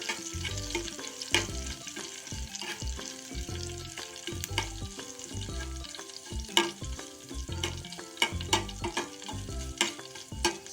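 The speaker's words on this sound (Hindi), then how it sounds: "इन सबको अच्छे से भून लेंगे" Green chillies and curry leaves fry in hot oil for sambar, with a soft continuous sizzle and repeated scraping and stirring strokes against the pan that come in an irregular rhythm, close up and without talk.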